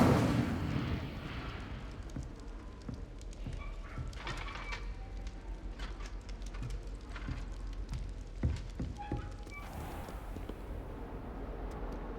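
The Incendio fire spell in Hogwarts Legacy bursts out with a loud whoosh, followed by a steady crackling, rumbling blaze with scattered popping bursts.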